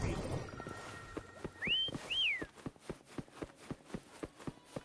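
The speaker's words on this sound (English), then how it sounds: "Why don't you call Foam over? Try whistling." Two short rising whistles ring out to call a horse in the Wuthering Waves video game, followed by a steady series of galloping hoofbeats approaching and growing clearer.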